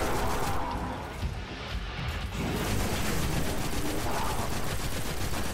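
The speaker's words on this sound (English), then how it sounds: "I've got the boss shooting me from one side" Dense, continuous gunfire from the Destiny video game during a Nightfall strike boss fight, a loud sustained barrage of rapid shots and impacts that barely lets up, with a brief thinner stretch partway through.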